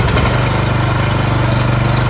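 A BCS 710 two-wheel tractor's small engine runs loud and close with a steady, rapid chugging pulse, rising slightly as throttle is applied.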